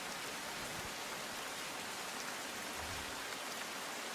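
Heavy rain pours over Surat's flooded Katargam Hathi Mandir road, a dense, steady hiss of water that holds unbroken throughout with no voices.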